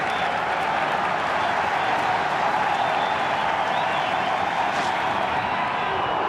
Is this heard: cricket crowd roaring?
yes